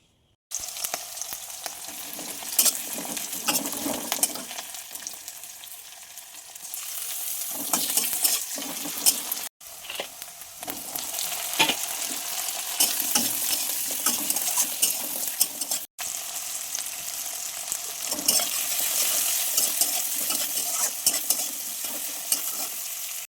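A potato curry bubbles in a pan while a utensil stirs and scrapes it, producing a continuous close sizzle with repeated clinks, broken by two short silent gaps.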